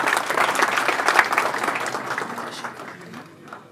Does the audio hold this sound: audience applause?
yes